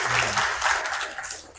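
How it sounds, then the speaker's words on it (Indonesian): Brief, scattered applause from schoolchildren in a classroom, a cluster of hands clapping together, fairly soft and close. "Tepuk tangan dulu dong."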